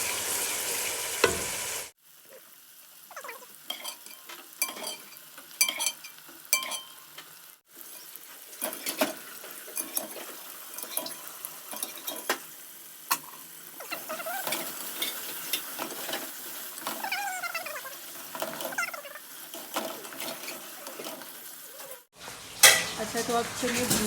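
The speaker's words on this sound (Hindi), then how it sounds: "अब इसको हल्का सा फ्राई करेंगे चनों को" Boiled chickpeas frying in a pan, with a steady sizzle broken by repeated scraping and clinking of a spoon stirring against the metal, close up, with brief quieter gaps and a few soft background sounds.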